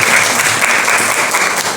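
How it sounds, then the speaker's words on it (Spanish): A class gives a short burst of steady applause, dense even clapping from a small group of students in a room, close and fairly loud, with no talk over it. "un aplauso a los valientes y a los cumplidores"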